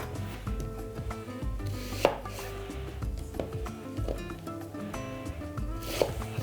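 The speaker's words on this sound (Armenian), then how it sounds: "Կվերցնեմ մանուշակագույն սոխ, 2 գլուխ սոխ, շատ մանր չեն կտրատում" A knife chopping red onions on a board, steady close taps with sharper knocks now and then, at a moderate volume, with no talking.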